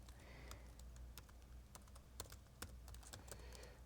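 Someone types on a computer keyboard, producing quick, irregular clicks of keys pressed close by, quiet and alone with no voices.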